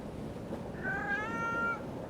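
A cat in the video game Foolish Mortals gives a single drawn-out, fairly clear meow over a steady low background hum, with no one talking.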